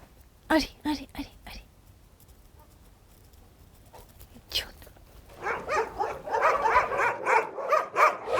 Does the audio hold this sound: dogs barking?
yes